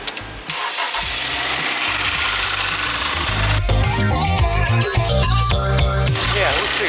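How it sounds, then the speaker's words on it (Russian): An engine swapped into a Tesla Cybertruck fires up and runs loud and close, with a rapid metallic knocking like a worn connecting rod bearing clattering over the mechanical din, with no speech. "гремит мотор, стучит, походу, звук похожий на стук шатуна, на провернутый вкладыш"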